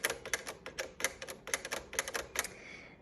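Keys of a 1952 Smith Corona Silent manual typewriter being struck, a quick irregular run of about a dozen crisp, close clacks that stops just before the end, with no talking.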